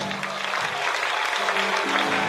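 A congregation in church applauds the Lord with steady, dense clapping throughout, while a sustained sung or voiced tone runs underneath.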